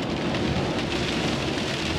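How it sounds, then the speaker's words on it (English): Heavy rain pours down steadily, a dense continuous hiss with a low rumbling undertone and no voices, recorded on the way into France through the Euro tunnel. "It's chucking it down with rain as well"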